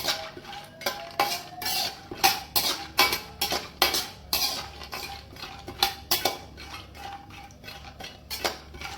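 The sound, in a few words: almonds being roasted and stirred in melted ghee in a pan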